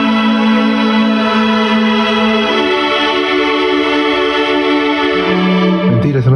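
Chorus of a pop song played back, with sustained strings and layered synth tones holding steady chords, continuous and loud throughout, with the harmony shifting near the end.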